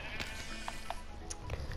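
Sheep in Minecraft bleating a few times, short faint calls over steady background game noise.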